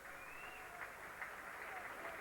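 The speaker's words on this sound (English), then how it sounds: "Big round of applause as Ian Breyer leaves the field," Steady broadband crowd applause at a 1998 BARLA National Cup Final rugby league match as a player leaves the field, a distant stadium wash with faint commentary over it.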